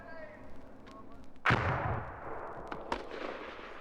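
A hand grenade bursts on an Army firing range with one heavy, booming blast that rolls and decays over a couple of seconds, preceded by faint voices and followed by a smaller thump, on an old record.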